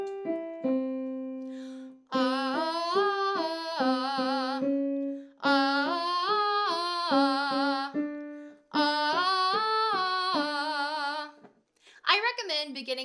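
Solo singer works through vowel sounds on rising and falling arpeggios as a vocal warm-up, several clear sustained phrases separated by short breaths, close and moderately loud.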